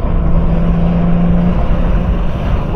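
A Leyland Marina six-cylinder car engine drones at high, steady revs around 4,500 rpm, loud and close, with a sustained engine tone holding through.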